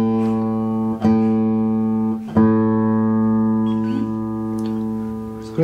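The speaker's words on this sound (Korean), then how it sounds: "이렇게 소리가 나면 튜닝이 된 거예요." A Roadie 2 automatic tuner turning a guitar peg while a string rings, sustained plucked guitar tones re-struck twice, with a faint motor whir in the background.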